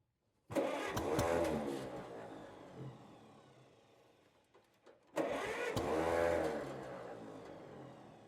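A Hercules Economy 7hp engine on a buzzsaw, prone to flooding and short of choke, makes two separate start attempts nearby: each bursts into loud sputtering running, then fades and dies.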